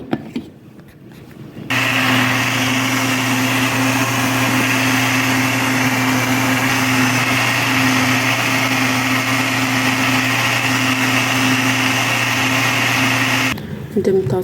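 Kitchen blender grinding cream, a loud close steady motor whir that starts abruptly, holds evenly for about twelve seconds and then stops, with brief quieter sounds before and after.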